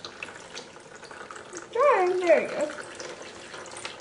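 Water from a faucet runs in three merging streams, a soft steady splash that swells into a brief, louder rush as a finger passes through them, with voices talking around it.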